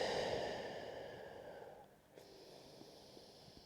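A slow, deep exhale during a yoga breathing exercise, a long breathy rush that starts strong and fades over a few seconds, then quiet room tone with faint small clicks.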